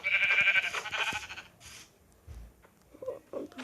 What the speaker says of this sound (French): je vais tuer des moutons pour me faire un lit